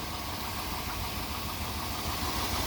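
A 5.7 Vortec V8 in a Chevy C1500 pickup with a failing alternator idles steadily, a continuous close rumble with a dense mechanical hum and no voices.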